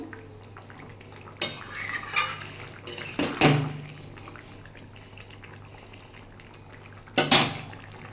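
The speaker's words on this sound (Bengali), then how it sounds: "এটা ভালো করে একটু নাড়িয়ে দিলাম" A spoon clanks and scrapes inside a pot of katla fish curry with potatoes, drumstick and pointed gourd, a few distinct stirring knocks separated by quiet stretches under a low steady hum.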